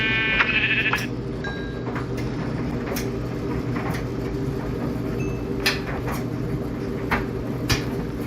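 Minecraft sheep bleat in short, distinct calls, the clearest one near the start, over a steady background hum, followed by a few faint clicks.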